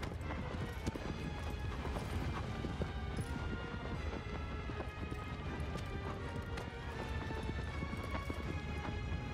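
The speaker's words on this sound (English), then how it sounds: "I thought my horse could outrun this" A horse gallops in the video game Shadow of the Colossus, its hoof beats a steady, rapid clatter buried in a dense, loud wash of rumbling game noise that runs without a break.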